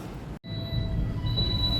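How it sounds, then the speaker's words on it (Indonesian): Kereta api Mataram economy train pulling out of the station on the Solo to Jakarta run, a low rumbling roll with a steady high whine and a brief cutout near the start. "Ya jam 9:42 kereta api Mataram diberangkatkan kembali"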